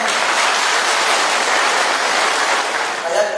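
An audience gives sustained, dense applause at steady loudness that tapers slightly near the end.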